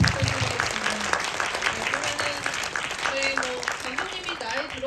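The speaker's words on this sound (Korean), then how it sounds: "박수 부탁드리겠습니다." Audience applause at a Seoul independent film festival screening talk with the director and actress, continuous clapping from the cinema crowd with a voice speaking over it.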